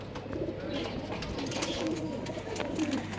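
Soft, rolling coos from several Madras pigeons kept in a shop continue across the short stretch, close and fairly quiet against a low background hum.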